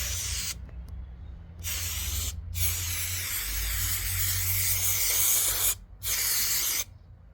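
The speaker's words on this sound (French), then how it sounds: "Tu prends de la colle en spray. Tu pulvérises ton mur." Spray glue hisses in steady bursts onto a pool wall during construction, with four or five long, loud sprays separated by short pauses and a low rumble underneath.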